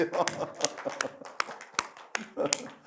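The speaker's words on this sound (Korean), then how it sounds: "박수 한번 쳐줘요." A church congregation at a Sunday Pentecostal worship service claps in scattered, uneven bursts of sharp hand claps, with a voice speaking over them.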